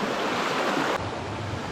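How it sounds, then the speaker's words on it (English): A swollen trout creek rushes past in a steady, full flow, close and unbroken, with no voices over it. "Look at how much water's flowing down here."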